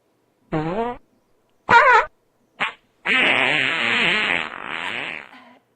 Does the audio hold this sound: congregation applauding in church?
no